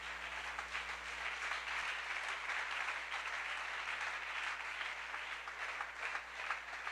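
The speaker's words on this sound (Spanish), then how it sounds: "Denle un aplauso al Señor, por favor, esa mañana." A church congregation applauds at a Sunday morning service, a dense, steady wash of clapping that holds evenly for the whole stretch without any voice on top.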